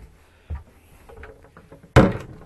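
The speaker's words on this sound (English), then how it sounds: "Close the door on the after cabin" A soft thump followed by a louder wooden bang as the after cabin door on a Fairline Sunfury 26 boat swings shut, close by, with faint rustling in between.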